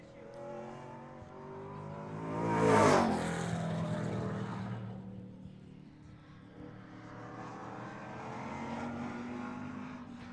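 A pro stock race car engine roars past at Seekonk Speedway, swelling to a loud peak then fading, with engine noise lingering afterward; a commentator's voice may sit faintly underneath.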